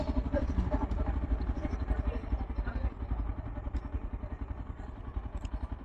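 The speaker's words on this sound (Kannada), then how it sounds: "ಅದು ಬೈಕ್" A motorcycle engine runs close by near a beach, its steady low pulsing throb continuous throughout with light mechanical clatter on top.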